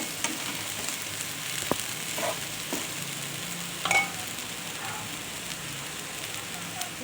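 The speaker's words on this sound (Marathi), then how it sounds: "हे असं पूर्ण फ्राय करून घ्यायचं।" Soybean vadas shallow frying in oil in a pan over medium-low gas, giving a steady soft sizzle throughout with a few faint clicks, no talking.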